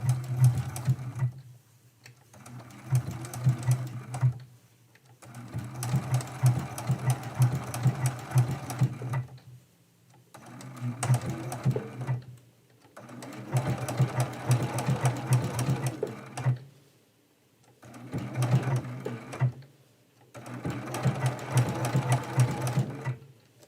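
A sewing machine stitches a quilt in several long, steady runs, each a close, loud, even mechanical whir broken by brief silent pauses between bursts.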